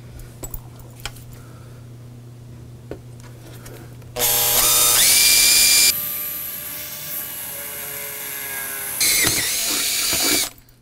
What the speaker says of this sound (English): so let's drill a hole in the cabinet here